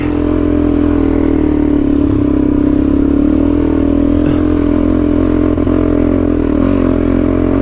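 An adventure motorcycle labours up a steep track in the Australian Snowy Mountains in first gear, its engine droning loud and close with steady low chugging, slight clatter and small throttle changes throughout.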